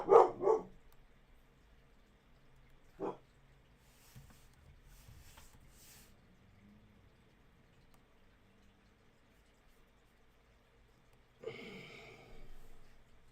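Dogs barking indoors, a couple of sharp barks at the start, a single bark a few seconds later, and a longer burst of barking near the end, with quiet gaps between.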